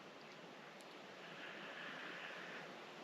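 Strong wind roars steadily at a campsite in Sequoia National Forest, a continuous broadband rush that swells slightly midway, with no voices.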